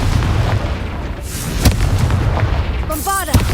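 Confringo spell cast in Hogwarts Legacy: a sharp blast near the middle, then a rising magical whoosh and a second burst at the end, all over a steady rumbling game backdrop.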